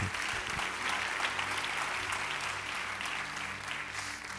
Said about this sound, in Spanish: Den un aplauso, Señor